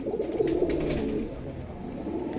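A pair of bright yellow pigeons, male and female, coo nearby in a soft, continuous low rolling murmur with no talk over it.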